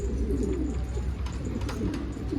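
Arab mail pigeons, a fancy breed kept among wild pigeons, cooing in a low rumbling murmur, steady and fairly close, with faint higher chirps over a constant background hum.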